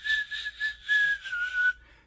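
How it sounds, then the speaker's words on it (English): A single person whistles without fingers using a mid-tongue technique, a clear steady tone held for under two seconds with a slight downward drift and several soft pulses, close and alone. "So I believe if you practice the mid-tongue whistle,"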